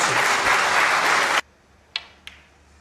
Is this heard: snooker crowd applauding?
yes